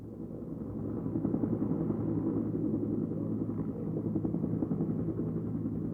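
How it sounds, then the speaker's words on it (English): A news helicopter hovers while lifting small-plane wreckage out of a lake, its steady rotor and engine drone continuous and fairly loud throughout, with no voices. "For that job, they chartered the Skywitness helicopter."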